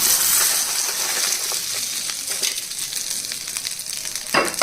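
Ingredients frying in oil with turmeric for tamarind pulihora, a steady crackling sizzle with occasional sharp pops and light stirring clinks.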